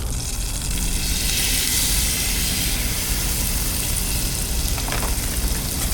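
A thin steak sizzling in a hot pan, loud, dense, continuous frying crackle that stays steady throughout, close up with no voices.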